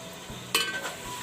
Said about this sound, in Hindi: और ये मसाले को बहुत अच्छा सा भुनेंगे